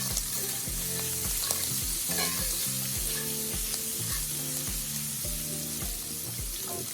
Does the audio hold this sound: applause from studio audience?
no